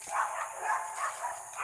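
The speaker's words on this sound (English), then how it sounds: "I got my dog barking." A pet dog in a home front-yard vegetable garden barks in a repeated rhythm of about four sharp yelps, moderately close, with a steady high hiss in the background and no talking.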